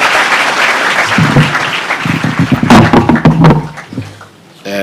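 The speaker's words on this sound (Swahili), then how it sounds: "Tupige makofi." An audience at a Kapsabet High School ceremony in Nandi County claps to welcome a guest of honour. A loud, dense burst of clapping builds, then breaks into scattered claps and tapers off near the end.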